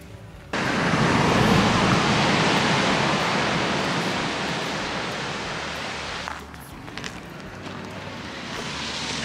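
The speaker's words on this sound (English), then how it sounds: "I think I can hear a waterfall" A small waterfall beside a footpath along the Pacific Coast Highway gives a steady broadband rush. It starts abruptly and stays loud and continuous, easing slightly toward the end.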